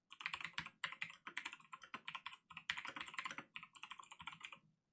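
Rapid, uneven keystrokes on a computer keyboard while code is typed for a Unity 2D physics project, close and clear, coming in bursts with short pauses and no talking.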